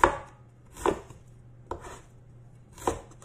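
A knife chops ginger on a board for a bitter gourd and scrambled egg dish, giving four sharp, separate thuds spaced about a second apart, close by, with no talking.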